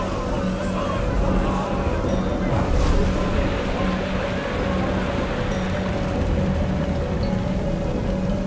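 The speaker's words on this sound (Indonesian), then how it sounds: "Ombak besar telah nampak dari kejauhan, seolah bersiap menghantam kapal Malin Kundang." Big storm waves pounding around a merchant ship at sea, a continuous loud roar of surf and wind with a steady low rumble throughout, no pauses.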